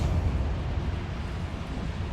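The Bombarda spell goes off in Hogwarts Legacy as a loud, sustained, low-heavy rumble that stays steady for about two seconds with no talk over it.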